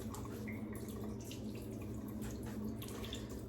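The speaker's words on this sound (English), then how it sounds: "all I've done is rinse with water so far" Running water at a bathroom sink as a face is rinsed during a safety razor shave, a steady soft splashing flow with light drips, quiet and close, with no voices.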